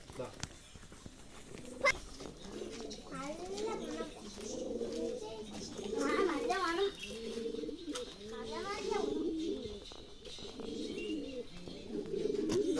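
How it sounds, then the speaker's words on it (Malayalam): Many pigeons of various colours coo steadily nearby in soft, repeated warbling calls, while a person talks over them throughout. "ഒരുപാട് പ്രാവുകളുണ്ട്, പലതരം കളറുള്ള."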